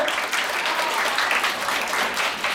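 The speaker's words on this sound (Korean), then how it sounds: "박수 주세요." Audience applause at a youth camp concert welcoming a mentor, steady dense clapping from a crowd throughout, moderately close and even in level.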